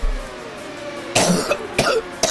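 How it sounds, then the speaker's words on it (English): A race commentator covering an rFactor sim-racing championship coughs three times in short, sharp bursts, close to the microphone, with a brief pause between each. "Still a bad cough from last week."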